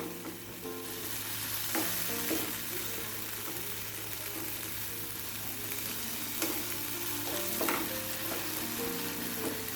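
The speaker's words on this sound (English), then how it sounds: "Now frying is almost done and tomatoes have almost melted." Tomatoes sizzle steadily in a frying pan, with occasional stirring scrapes and a constant low hum behind it.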